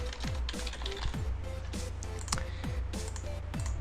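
Typing on a computer keyboard while entering search tags into image-management software, a steady run of light clicking keystrokes heard close over a low background hum.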